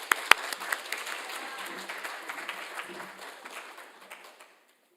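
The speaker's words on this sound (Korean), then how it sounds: "우리 나오실 때 크게 박수로 환영해 주시기 바랍니다." A church congregation at a Sunday worship service applauds in welcome, a dense wash of many hands clapping that tapers off and fades into silence near the end.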